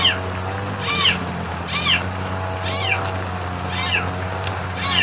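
A kitten meows repeatedly and close, about five evenly spaced mews over a low steady background hum on a rainy morning.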